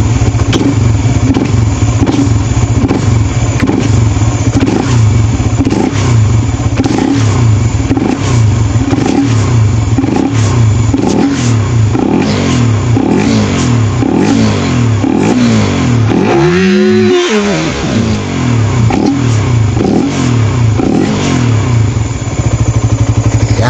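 A Suzuki Raider R150 FI motorcycle engine runs loud and close with a steady, rapid mechanical clatter. It swells in one brief rev near the end before settling back, with no talk.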